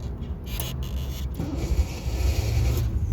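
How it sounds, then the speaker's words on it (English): A 1968 MGB sports car engine catches and settles into a low, uneven idle, building steadily toward the end; no voices are heard. "Start the car, just start it up."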